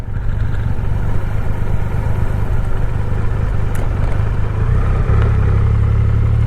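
Triumph Rocket 3 GT motorcycle riding along, its loud, steady engine drone and low rumble running continuously with a slight shift in tone near the end.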